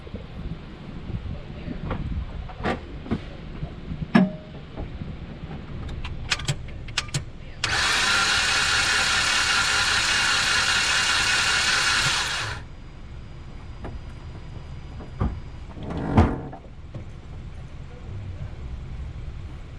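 A car engine with a blown head gasket runs with irregular sputters and clicks, then a loud sustained rushing hiss for several seconds before the uneven running resumes.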